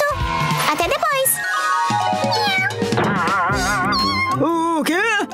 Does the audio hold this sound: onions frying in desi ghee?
no